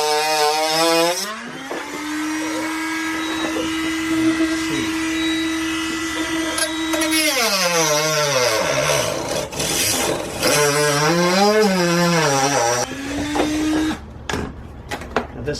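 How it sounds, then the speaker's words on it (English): A battery-powered Dremel rotary tool cuts into a rear platform on a Jeep JK, its loud whining motor climbing and dropping in pitch as it bites, slows and spins back up, close and continuous. "Now this is a battery-powered Dremel, which for the most part works pretty well."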